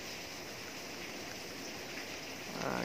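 Salt being stirred into water in a simple classroom science demonstration of dissolving, heard as a steady watery swishing and trickling throughout, with a slightly louder burst of stirring at the end.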